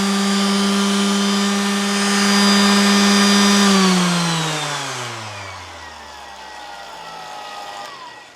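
Makita BO5041 random orbit sander running at its top speed setting, a loud steady high whine with a strong motor hum that then winds down, pitch sliding lower as it coasts to a stop, close and without talk.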